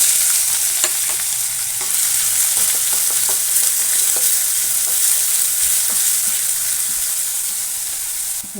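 A big onion fries in a hot pan with cardamom and a bay leaf for a homestyle potato gravy, giving a loud, continuous close sizzle with occasional stirring clicks and no talking.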